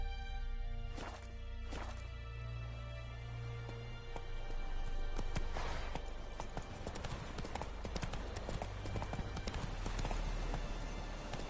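Hoofbeats of Roach, the horse in The Witcher 3, clatter steadily up close in a quick clip-clop rhythm, sitting over a low game ambience that thickens midway.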